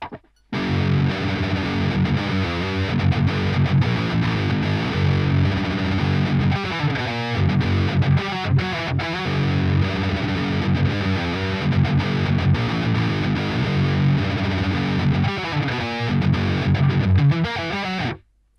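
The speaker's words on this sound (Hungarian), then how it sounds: "először hallgassuk meg az editál gitársávot" A loud, heavily distorted electric guitar plays continuously, thick and saturated with amp-like grit, strumming chords and short riffs without pause.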